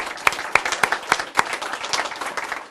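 Clapping from an audience, a burst of many hands applauding steadily, with a few sharper individual claps standing out.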